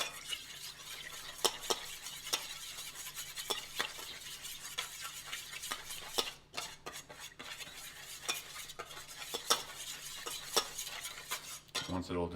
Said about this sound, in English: Then you mix until all the sugar dissolves.